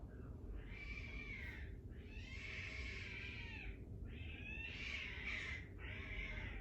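Several cats meow and yowl indoors in a house, four drawn-out, wavering cries in a row at moderate loudness over a steady low background hum, with no talking.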